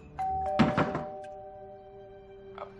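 A house doorbell chimes in a dramatic romance scene: a bright ringing tone with a soft thunk, followed by a lingering sustained note that fades, followed by a faint knock-like tap near the end.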